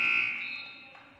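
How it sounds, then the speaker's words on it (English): A basketball game buzzer blares in one sustained electronic tone that starts loud and tapers off over about a second, heard alone in an indoor gym. "so he runs the buzzer"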